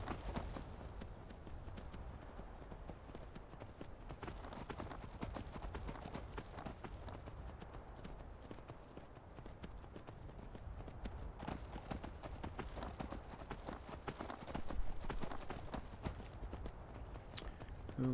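Steady clip-clopping of a horse's hooves in Skyrim, a continuous trotting rhythm at moderate loudness under ambient game sound, with no talk.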